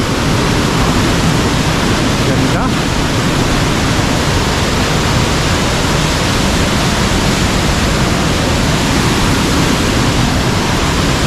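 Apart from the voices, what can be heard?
spring water rushing strongly after rain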